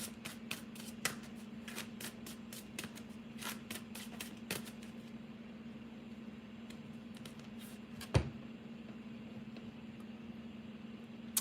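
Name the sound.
shuffling tarot cards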